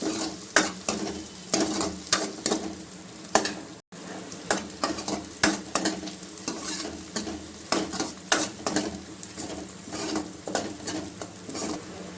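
Close, crackling sizzle of chilies frying in hot oil, with repeated scraping and stirring sounds against the pan and no voices.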